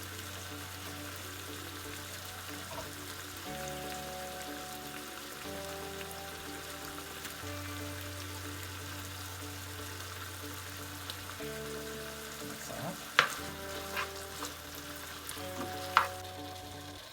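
Chicken, onions, ginger and garlic fry in an Indian-style stir-fry pan, giving a continuous soft sizzle under steady background music, with a couple of sharp clicks near the end.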